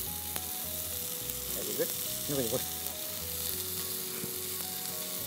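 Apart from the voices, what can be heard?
ginger frying in pan for chicken curry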